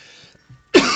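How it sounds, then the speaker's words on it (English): A single sharp cough bursts out near the mic, following a stretch of faint background sound, in the middle of a live-streamed Kerbal Space Program play session. "Do not apologise for my coughing."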